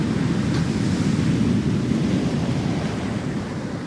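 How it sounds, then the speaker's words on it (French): Ocean waves build and roll in a continuous loud wash of surf, blended with gusting wind buffeting the microphone, with no voices over it. "Voilà les formations des vagues."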